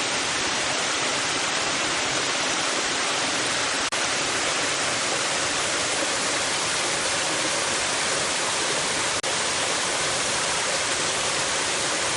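Continuous rushing water of Cowan Creek, a broad steady roar like a creek tumbling over rocks, heard up close with no voices.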